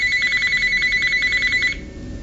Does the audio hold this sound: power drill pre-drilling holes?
no